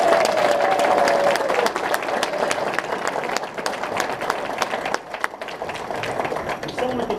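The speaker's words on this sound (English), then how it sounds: "let's give those here for the first time a round of applause" Audience applause fills a scout banquet hall, steady dense clapping with a few louder claps standing out, faint voice audible briefly at the start, easing slightly toward the end.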